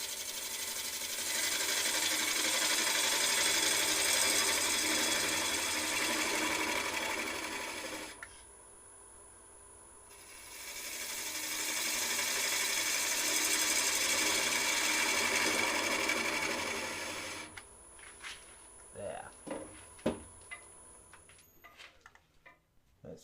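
Wood spins on a lathe while a HollowPro gouge cuts into it, two long passes of a steady, rumbling whir, with quieter pauses between them and scattered taps and knocks at the end.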